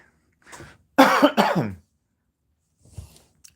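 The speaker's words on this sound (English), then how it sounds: "Sorry that I just coughed." A few sharp, harsh coughs close to the mic, a short cluster followed by quiet and then a faint trailing sound.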